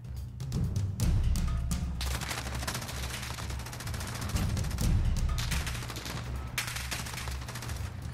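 Sustained automatic fire from a stockless gold MG34 machine gun in a first-person shooter video game, dense rapid bursts running loud and continuous throughout with brief gaps between volleys.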